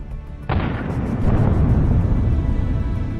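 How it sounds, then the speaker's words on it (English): A landmine blasts beneath a retreating tank in a dense minefield: a sudden, loud boom erupts after a short quiet, then rolls on as a heavy, rumbling roar. "There were as many as 5 explosions."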